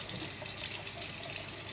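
Water runs steadily from a tap as a paint brush is rinsed with soap, a continuous close hiss and splash with no talking.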